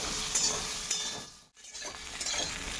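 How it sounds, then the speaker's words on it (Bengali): Pointed gourd and potato pieces frying in a small amount of oil in a pan, a steady close sizzle broken by stirring scrapes and a brief quiet gap midway. "এই পটল আর আলু আবারও একটু ভালো করে ভেজে নেব"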